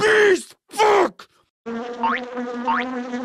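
Two loud, short buzzing bursts are followed by a steady, droning insect-like hum with rising whines, close and prominent.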